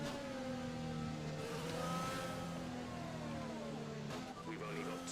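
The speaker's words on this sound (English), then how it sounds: "I'm warming my car up for a lap." A Formula 1 race car engine in the F1 2020 racing game drones at a steady, sustained pitch with shifting revs, quiet and continuous and without break.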